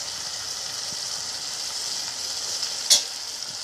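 Mustard paste goes into a softened vegetable chorchori frying in a pan, producing steady close sizzling, with a sharp scrape or clink of stirring near the end.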